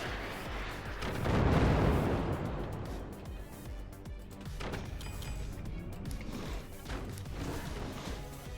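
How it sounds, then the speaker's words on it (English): Mortar fire and shell impacts in the artillery building game Forts, with a loud booming crash swelling near the start, then a dense rumble of more distant blasts and clatter that continues to the end. "But I am suspecting mortars"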